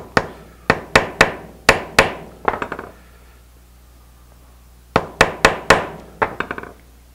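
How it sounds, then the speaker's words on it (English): A knife's handle scales are tapped lightly into place with a hammer: two close bursts of about six sharp taps each, separated by a quiet pause. "Still a snug fit, so just got to tap them in lightly."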